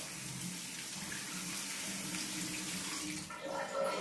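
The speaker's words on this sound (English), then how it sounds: "open the tap and wash your hands" Water running steadily from an opened tap during handwashing, a close, continuous hiss and splash that shifts slightly near the end as hands move under the stream.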